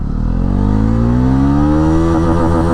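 A Bajaj Pulsar NS400Z motorcycle pulls away hard in first gear, its engine note rising steadily in pitch, close and loud, with a rough change in tone near the end and no speech.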